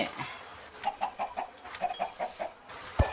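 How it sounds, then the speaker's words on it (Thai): A Minecraft chicken clucks in a run of short repeated calls at moderate volume, ending with a sharp click. "เจ้าไก่น้อย เจ้าไก่น้อย"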